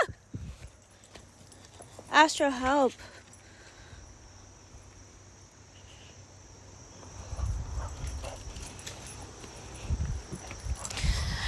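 A pet dog named Astro gives a short burst of whining yelps early on, followed by some shuffling movement, while a person talks quietly nearby.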